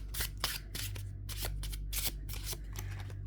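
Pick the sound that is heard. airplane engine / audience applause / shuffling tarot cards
shuffling tarot cards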